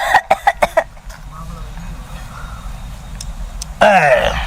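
A burst of several sharp coughs close to the mic, followed by a quieter stretch with low background murmur and a voice returning at the end.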